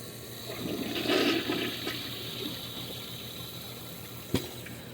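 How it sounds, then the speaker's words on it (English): A Foremost Eco To Go toilet, a 2020 model, flushes a second time and its tank refills, a steady close rush of water that swells early then settles into an even filling hiss, ending with a brief clunk. "I'm going to let the tank fill up a little more and I'll give it a second flush."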